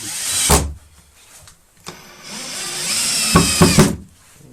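A Tekhmann TCD-60 cordless screwdriver drives a 75 mm screw into wood, its motor whirring in two bursts under load with a short gap between them and a knock of handling at the start, close and loud, no talking.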